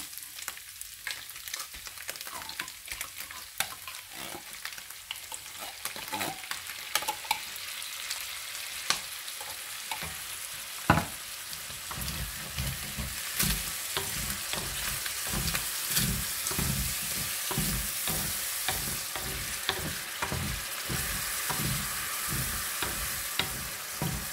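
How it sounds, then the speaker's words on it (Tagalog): Ginataang pork cooks in a pan as coconut milk is added, a close steady sizzle broken by repeated scraping and stirring strokes that grow busier and more rhythmic in the second half. "Yan, lagyan natin ng gata."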